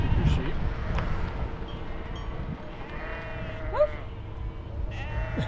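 Sheep bleat in the open near a road on a high-country loop, with several short, wavering cries at mid distance and a low engine rumble and occasional voices underneath.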